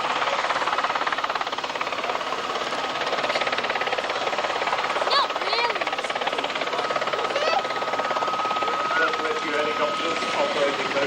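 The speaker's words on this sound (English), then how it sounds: "Helicopters operating both at sea and mountain and airport." A helicopter hovers at an airshow while lowering a stretcher on its hoist, a loud steady rotor and engine roar filling the whole clip under a commentator's voice.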